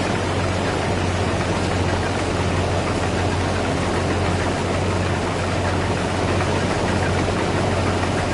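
A tractor engine in the farming video game Farming Simulator 22 idles in a steady, unbroken drone with a low hum and a noisy rumble, holding level throughout with no pauses.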